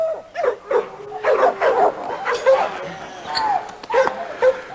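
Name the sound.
small dog barking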